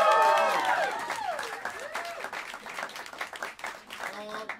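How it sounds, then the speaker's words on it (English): An audience applauds at Smalls Jazz Club in New York City after a quartet's performance. The clapping is dense and sustained, and a voice talks loudly over it at first while the crowd keeps clapping. "Give him a round of applause."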